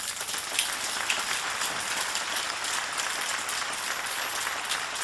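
A concert audience gives a sustained round of applause for a performer, a dense, even wash of many hands clapping at moderate volume for several seconds, with no talking over it.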